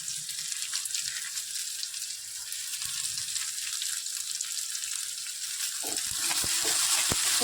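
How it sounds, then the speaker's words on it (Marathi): Onion greens and chili sautéing in hot oil, a steady close sizzle and hiss that runs throughout, with a few soft knocks near the end. "तेलामध्ये परतून घ्यायची आहे मिरची"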